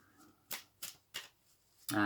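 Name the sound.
shuffling decks of tarot cards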